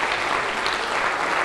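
A church congregation claps in praise during a Spanish-language sermon, a brief burst of dense, steady applause with no voices.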